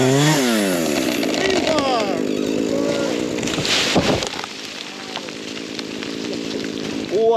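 Chainsaw cutting down eucalyptus trees on a homestead in Portugal: a loud, revving engine rising and falling in pitch as it bites into wood, then a crack and settling to a steady idle drone.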